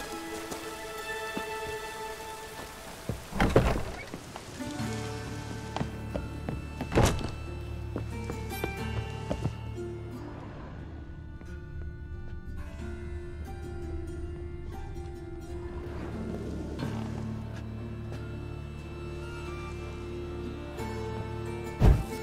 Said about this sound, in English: It's raining buckets.